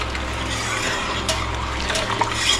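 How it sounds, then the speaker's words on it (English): Liquid pouring steadily into a pot of Seville orange marmalade while it is stirred, a soft continuous watery rush with faint scraping, close and without talk. "Then I'll just pour this in while I'm stirring."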